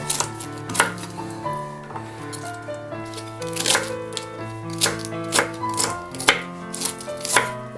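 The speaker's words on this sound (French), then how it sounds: "vous prenez votre chou et vous l'émincez pour faire des petites parties" A knife rhythmically chopping cabbage on a cutting board, a steady run of crisp close taps that quickens and slows, with a faint voice in the background.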